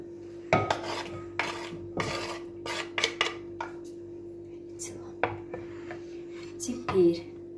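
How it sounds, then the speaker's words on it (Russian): Knife chopping vegetables into small pieces on a cutting board for an avocado salad, a series of irregular, fairly quiet sharp knocks and scrapes with a steady low hum underneath. "Нарезаем произвольно,"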